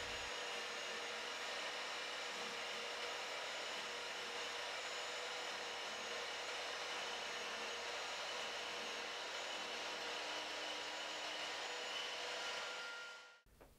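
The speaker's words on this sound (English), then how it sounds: "Slide the saw blade away from you until the material is cut." A GMC 1400W mitre saw cuts through material with a loud, steady, high-pitched motor roar. It runs unbroken for about thirteen seconds, then cuts off abruptly.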